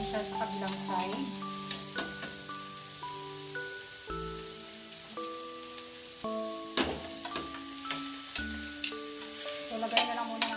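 Pork spare ribs fry and sizzle in a pan with a soft, continuous crackle, heard beneath melodic background music with occasional sharp clinks.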